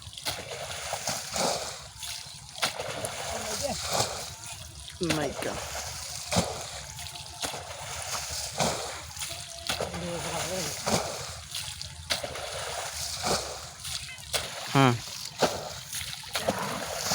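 Water splashes and sloshes in short, uneven bursts as people catch stinging catfish by hand in a shallow drained pond in Bangladesh. People talk almost constantly over the splashing.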